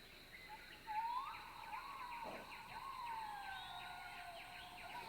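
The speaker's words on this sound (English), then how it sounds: "This is Exotic Tropical Rainforest with Birds of Paradise" Exotic tropical rainforest ambience with birds of paradise: long sweeping whistled calls glide up and down over a steady hiss of insects and forest background, moderately loud and continuous, with no talking.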